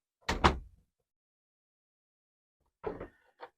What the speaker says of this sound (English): let's close the door into the room